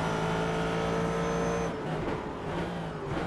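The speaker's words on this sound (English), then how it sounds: "This is a lap in the FordGT on iRacing.com's virtual circuit" A Ford GT race car in the iRacing video game holds a steady, loud engine drone at Spa-Francorchamps, then the pitch shifts and wavers as it brakes and changes gear, with faint tire noise.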